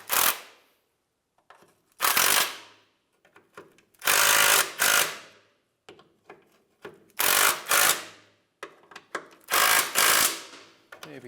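A power tool tightens bolts into the rear differential damper mount of a 2003–2011 Honda Element in repeated loud bursts of whirring and ratcheting, separated by short silences and light clinks.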